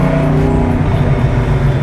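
A 1997 Cobra's engine runs steadily on a test drive after a cooling upgrade, a loud continuous low rumble with a droning exhaust note and no voices.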